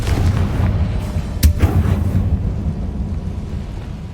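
A Confringo blasting spell goes off in Hogwarts Legacy, a deep rumbling boom with a sharp crack near the middle, over a continuous low roar that fades slowly.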